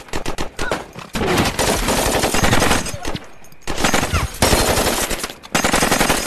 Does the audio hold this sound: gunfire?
yes